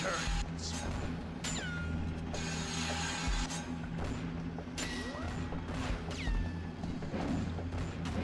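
Grind reel machinery in Bloodrayne 2 on the PS2, a busy mechanical clatter of ratcheting, clanking and metallic sweeps with a few sharp crashes, continuous and fairly loud within the game audio.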